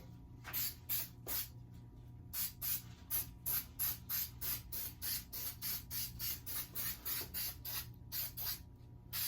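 Repeated short hissing bursts of aerosol spray adhesive onto a car door panel, in a fairly steady rhythm, close and moderately loud, about two or three per second.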